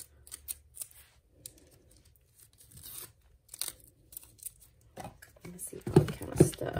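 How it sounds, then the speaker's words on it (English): Tape is peeled and torn off an in-the-hoop embroidery bag project on a sewing and embroidery machine, giving close ripping and crinkling bursts with louder tearing at the end and a voice speaking briefly. "I'm going to take this tape off."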